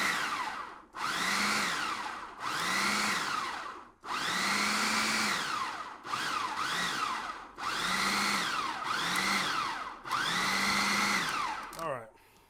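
A food processor pulses a pimento cheese mixture with roasted red pepper and mayo: six or seven loud motor whirs of one to two seconds each, pitch rising as the blade spins up, separated by brief pauses.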